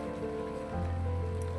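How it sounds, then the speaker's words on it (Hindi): Heavy rain pours down steadily in a continuous dense hiss, with a low constant rumble joining partway through and no voices. "और बारिश रुकने का नाम नहीं ले रही।"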